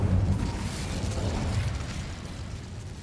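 A fiery Incendio spell erupts in a video game with a loud, low burst at the start, then a rumbling, crackling roar that rolls on and slowly fades over a few seconds.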